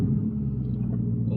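A Ford Crown Victoria Police Interceptor with a 4.6 liter V8 idles with a deep, steady low rumble, close and continuous for a brief moment with no talk.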